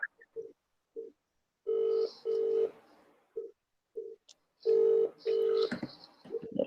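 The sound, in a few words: telephone dialing tones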